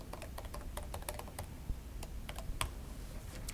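Fingers tap out a login password on a computer keyboard, quick irregular key clicks in short bursts over a steady low room hum, close and moderately loud with no voices.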